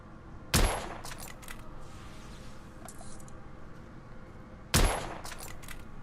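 Two loud, sharp gunshots ring out in The Order: 1886, several seconds apart, each with a bright crack and a short ringing tail over quiet game ambience.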